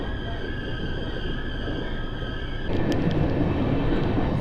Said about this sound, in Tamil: Speed எடுக்குதுங்க train.